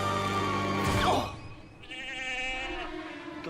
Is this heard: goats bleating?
yes